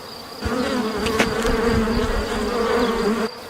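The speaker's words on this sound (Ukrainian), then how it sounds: "Бджола свариться з іншою." Bees buzz in a steady, dense drone that swells in close for about three seconds, then drops away, with no talking.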